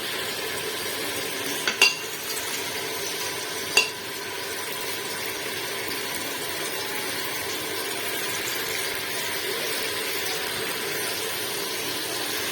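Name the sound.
tomato masala being stir-fried in a pan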